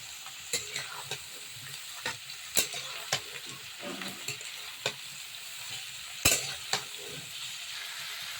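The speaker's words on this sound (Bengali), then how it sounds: "লঙ্কার ফোড়ন দিচ্ছি। দুটো শুকনো লঙ্কা নিয়ে নিয়েছি। নেড়ে নেব।" Two dried red chillies sizzle in hot oil in a pan as they are stirred, with soft frying hiss and scattered scraping clinks of a spoon against the pan, fairly quiet and close.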